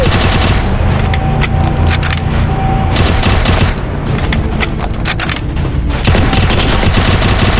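Rapid, sustained automatic gunfire from the Free Fire video game, with dense overlapping bursts and booms that are loud and continuous throughout, with no voices over them.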